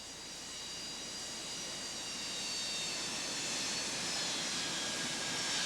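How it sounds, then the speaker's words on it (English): The jet engines of a Boeing 727 or 737 run in idle reverse thrust during powerback, a steady broad roar with a faint whine that swells slightly over several seconds. "It is important to hold brakes until both engines are in idle reverse to prevent forward"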